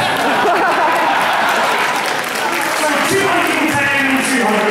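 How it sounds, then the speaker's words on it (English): An audience at a convention charity auction breaks into loud sustained applause with crowd cheering and voices mixed in throughout. "Give that man a round of applause."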